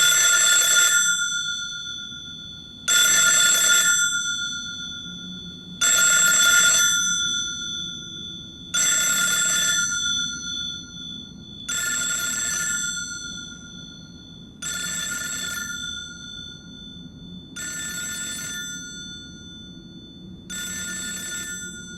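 A telephone bell rings in a Japanese horror film, eight evenly spaced bursts of bright metallic ringing about every three seconds, each cutting off into near silence over a faint low hum, with no talking.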